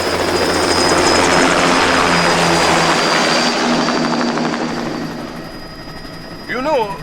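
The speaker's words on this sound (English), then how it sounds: "Commencing takeoff in semi-auto mode." An aircraft in Metal Gear Rising: Revengeance starts its takeoff with a loud, steady engine roar that swells and then eases slightly, as a brief electronic chirp rises near the end.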